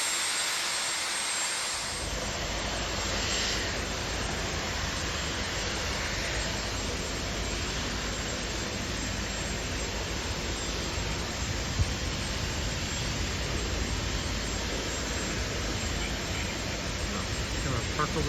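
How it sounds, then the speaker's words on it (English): A helicopter sits on the deck with its turbine roaring as a loud, steady wash of engine noise that starts abruptly and holds continuously, fairly close. "the helicopter is just on the deck"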